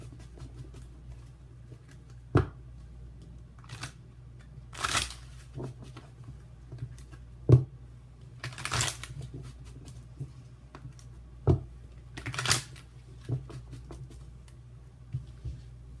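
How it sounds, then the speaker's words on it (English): Tarot cards pulled and shuffled during an oracle reading, giving a series of short papery flicks and slaps spaced every couple of seconds over a low steady room hum, fairly quiet and close. "let me just pull some of these cards here"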